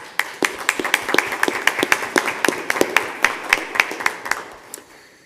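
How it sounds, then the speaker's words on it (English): A round of applause at an evening school board meeting, with fairly sparse, distinct hand claps from a small group in a room, steady throughout with little talk. "So I would like to just give you a round of applause."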